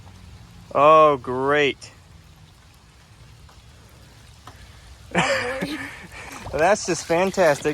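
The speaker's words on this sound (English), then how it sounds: "Oh, here comes the rain." Rain falling outdoors on a muddy trail where RC crawler trucks are being driven, a steady broadband patter running under the whole stretch, with people talking loudly at the start and again near the end.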